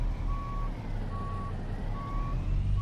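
Truck reversing beeps in Euro Truck Simulator 2, three evenly spaced steady electronic tones over a low idling diesel engine rumble, with no talk.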